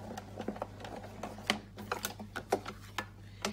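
An embossing folder with a tin tile pattern, sandwiched between a base plate and cutting plate, cranked through a manual die-cutting machine for card making, giving a series of close, faint clicks and ratcheting creaks.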